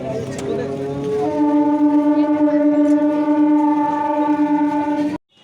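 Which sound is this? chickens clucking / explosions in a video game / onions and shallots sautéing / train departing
train departing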